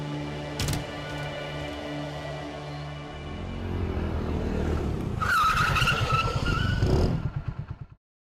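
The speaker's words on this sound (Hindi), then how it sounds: "क्यों रोक दी गाड़ी?" A car rumbles and accelerates, then its tires screech loudly for a couple of seconds as it skids to a stop, before sudden silence; no voices.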